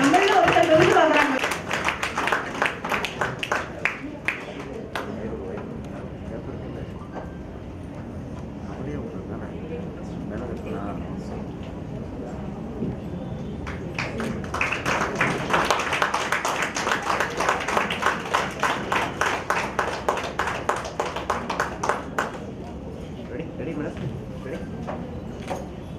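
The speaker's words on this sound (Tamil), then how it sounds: "இன்னும் கைத்தட்டல் பலமா கொடுக்கலாமே" Audience applause fills a hall at a state professional council award ceremony in Coimbatore, with bursts of dense clapping at the start and again midway while an announcer speaks over the gaps.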